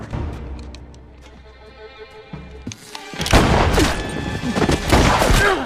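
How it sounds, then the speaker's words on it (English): Gunfire in a film shootout: after a quieter stretch with a few dull thuds, loud rapid shots and sharp bangs break out and keep cracking one after another to the end. "James, who heard the gunfire,"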